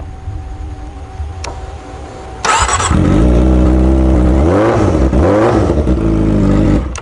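A motorbike engine catches and settles into a loud, steady running rumble, with a brief rise in revs midway, following a quieter stretch of low background hum.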